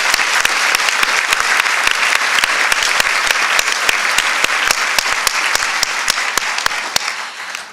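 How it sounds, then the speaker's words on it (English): Sustained applause from an audience at a Supreme Court luncheon, crisp individual claps standing out over a steady wash of clapping, loud and unbroken. "So I suggest another round of applause for Justice Joyce Kennard."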